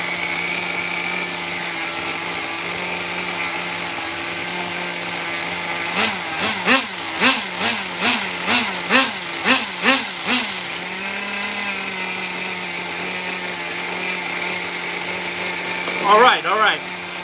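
A Kyosho FW-06 nitro RC car engine buzzing at a steady high idle, broken by a run of about eight sharp blips of revving in the middle and another short burst near the end; close and loud.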